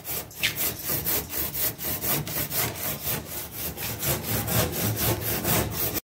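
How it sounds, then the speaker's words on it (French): A hand saw cutting through a wall, steady rhythmic back-and-forth strokes, close and fairly loud, with no talking. "je vais préparer avec la scie, je vais couper de bas jusqu'à le haut."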